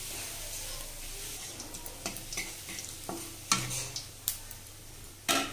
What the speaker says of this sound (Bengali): ফোড়ন দেব